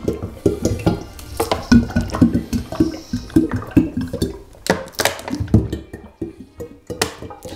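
A bottle of sunflower oil is opened and poured out for a homemade long-burning candle, heard close as a series of irregular glugs, plastic crackles and splashy knocks with no talk.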